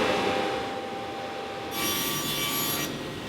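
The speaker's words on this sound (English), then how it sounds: "It whizzes and it hisses and it creates curlicues out the top and chips fall out the bottom" A cabinetmaker's woodworking machine cuts through wood, throwing off curled shavings and chips, with a steady close rasping hiss that swells louder for about a second partway through before settling back, no voices present.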